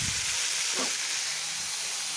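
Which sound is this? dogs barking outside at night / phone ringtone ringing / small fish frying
small fish frying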